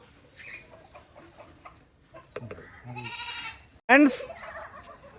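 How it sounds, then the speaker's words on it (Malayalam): At an elephant park in Kollam, a sheep's bleat rings out loud and near, following a softer, wavering bleat and some quiet background murmuring. "അപ്പോൾ ഇത് ഷീപ്പാണ് ഷീപ്പ് ചെമ്മരിയാട്"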